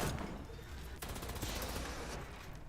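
An Assassin Gatling gun fires in Fallout 76 as a steady, rapid stream of rattling shots that runs through the whole stretch at moderate distance, fairly faint overall.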